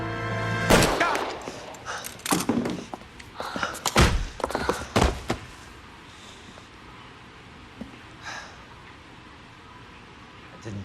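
Gunfire in the video game L.A. Noire: a few sharp, loud shots, with the first blasts close together near the start and quieter thuds following, then a long, quieter stretch with faint background noise.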